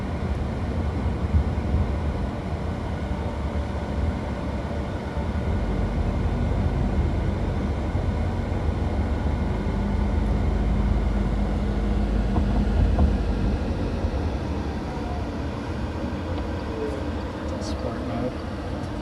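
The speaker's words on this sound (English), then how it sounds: "when you accelerate, it will rev the engine a little bit" A 2012 Fisker Karma EV on a test drive, its range-extender engine running as the car accelerates, a steady broad rumble and road roar throughout with faint talk underneath.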